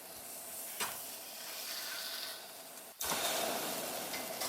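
A salmon burger patty sizzles steadily in a frying pan, with a soft scrape near 0.8 s as a spatula works under it and a louder burst of frying at 3 s as the patty is flipped.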